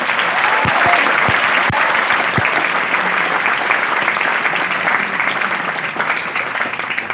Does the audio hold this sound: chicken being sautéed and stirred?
no